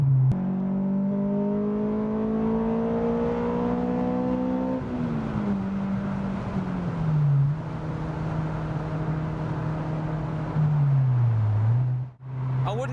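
A 2000 Honda S2000 AP1 cruising on a motorway, its engine holding a steady drone heard from inside the cabin with shifting pitch as speed changes and a continuous road roar underneath, close and sustained for the whole stretch.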